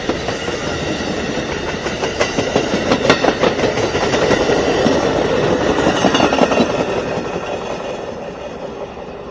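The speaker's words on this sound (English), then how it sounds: "Locomotive 130 in the lead on 79." Amtrak train 79, led by Heritage Unit locomotive 130, rolls through Ashland, Virginia with a loud, close, continuous rumble of wheels and a clickety-clack over rail joints. The noise swells as it passes and then eases slightly.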